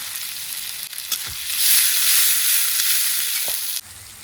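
Dry red chilies, whole cumin, chopped onion and green chili hit hot oil in a pan, giving a bright, steady sizzle that swells partway through, with a few soft stirring knocks before it cuts off.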